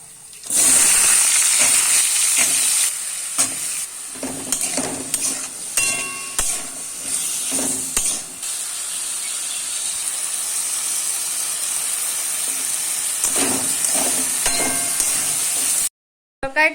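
Potatoes frying with green chili and a spice tempering in a pan on a gas stove, a loud steady hiss and sizzle with scattered knocks and clinks of stirring, ending in a brief drop to silence.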